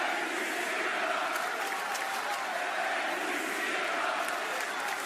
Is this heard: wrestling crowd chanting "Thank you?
yes